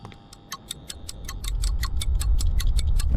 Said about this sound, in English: That's a loud clock.